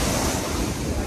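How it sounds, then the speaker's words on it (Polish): Loud, continuous roar of sea waves breaking at Pattaya, Thailand, mixed with heavy wind buffeting the microphone, with no voices. "Dodatkowo właśnie te bardzo głośne fale z morza."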